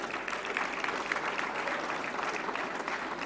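A national film awards ceremony crowd gives sustained, even applause in honour of a late figure, a dense wash of many hands clapping at moderate distance throughout.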